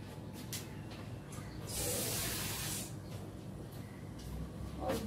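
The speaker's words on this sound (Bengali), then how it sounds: "অল্প একটু জল দিচ্ছি" Water is poured into a pressure cooker holding vegetables set to boil, a soft hissing splash that swells for about a second in the middle and then fades to quiet clatter.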